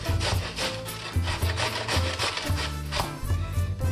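Potatoes grated by hand for spicy hashbrowns, giving steady rhythmic rasping strokes, close and fairly loud, repeating roughly every third of a second with no talking.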